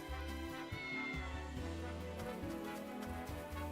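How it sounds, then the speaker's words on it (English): A cat meows faintly a few times in a video game scene, over a steady musical backing with no talk. "It's a cat."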